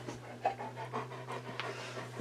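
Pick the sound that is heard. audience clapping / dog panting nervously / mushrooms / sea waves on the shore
dog panting nervously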